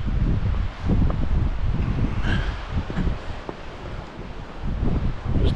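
Gusty wind buffets a microphone on seaside rocky ledges at the coast, a loud, uneven rumbling roar that rises and falls continuously, with faint surf beneath.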